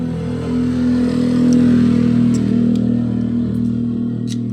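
A faulty, misfiring Honda Click scooter engine runs steadily close by, a low continuous hum that swells slightly midway, with light clatter on top and no talk.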